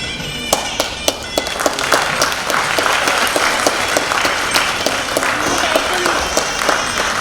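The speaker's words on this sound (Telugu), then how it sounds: "తనీషా అనీషాని మన చప్పట్ల ద్వారా వేదిక మీదకి ఆహ్వానిద్దాం." Audience applause welcoming guests onto the stage at an Arangetram dance debut, a sustained wash of many hands clapping with sharp individual claps popping out, steady and fairly loud throughout.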